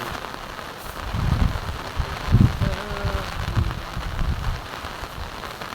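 Heavy rain pouring down during Typhoon Aghon, a steady dense hiss of rain on surfaces with some louder splashing swells, while a voice talks faintly underneath.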